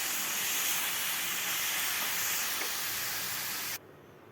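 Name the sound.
cabbage frying in a pan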